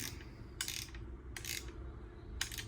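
A wrench ratchets as a bolt is tightened on a twin cylinder oil-free air compressor, with three short clicking bursts over a faint hum.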